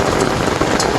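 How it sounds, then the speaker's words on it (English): Hail falling outdoors during a thunderstorm, a dense, steady patter of icy pellets striking surfaces, loud and close without pause. "There is hail."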